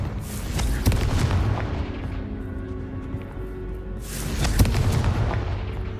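Repeated Confringo fire spell blasts in the video game Hogwarts Legacy, two heavy booming bursts a few seconds apart, each loud and broad, over a constant low game rumble.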